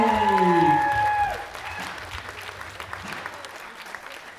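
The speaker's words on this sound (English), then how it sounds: "In the silver medal position, a big round of applause now for Brona McPeak." A crowd at a bench press and deadlift powerlifting competition applauds a silver medallist. Loud, dense clapping opens under a voice and then thins to a lighter, scattered patter.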